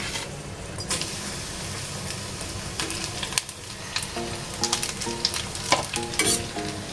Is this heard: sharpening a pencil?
no